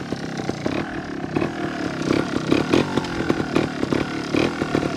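A Honda Montesa 315r two-stroke trials motorbike engine revs up close, a loud buzzing, raspy roar that surges and drops in repeated bursts of throttle.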